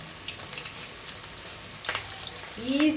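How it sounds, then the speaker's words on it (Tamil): Tuna fish frying in oil Chettinad style, a steady soft sizzle and crackle close by, building slightly louder toward the end, with a brief voice-like tone over it. "போட்டுட்டு நான் இதையும் பொரிச்சிட்டு உங்கள்கிட்ட காமிக்கிறேன்"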